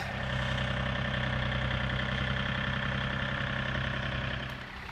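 A tractor's engine idles steadily at close range, a continuous low rumble with a mid-pitched drone that holds even throughout and eases slightly at the end; no one speaks.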